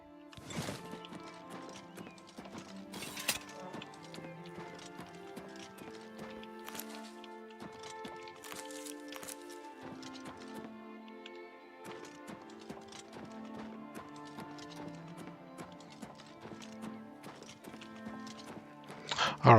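Horse hooves clip-clop in Oblivion Remastered alongside music and occasional whinnies, with steady hoofbeats running across the whole stretch at moderate level.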